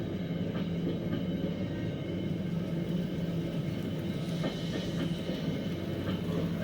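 Steady low rumble and rolling clatter of an N scale model train running on its track, continuous and fairly close, with faint periodic clicks from the rails.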